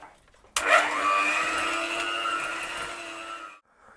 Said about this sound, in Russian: перемешал, видите, не взбил, перемешал сахар и ванильный сахар